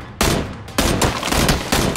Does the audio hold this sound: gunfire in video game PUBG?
yes